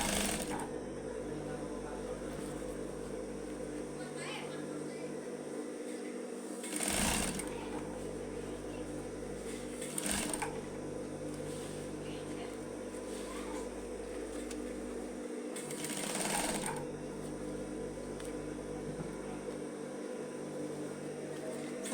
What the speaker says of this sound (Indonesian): Jahit sampai selesai.